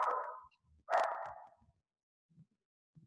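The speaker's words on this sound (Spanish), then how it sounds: "Hay un perrito que aquí está haciendo bulla." A small dog barks twice in close succession, loud and nearby, followed by faint scattered little noises in an otherwise quiet indoor space.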